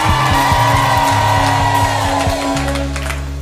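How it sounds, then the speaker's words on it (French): Worship congregation shouting and crying out with joy during a loud adoration service, dense crowd voices with sustained bass-heavy music underneath, continuous and close. "Rema, il faut crier, on crie de joie."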